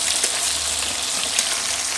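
Chicken malai tikka frying in hot oil, a steady, close, crackling sizzle with small pops, loud and continuous without talk.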